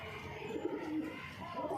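A pigeon kept by a flying-pigeon fancier coos softly in a low, throaty, repeated murmur, faint and close throughout with no talking.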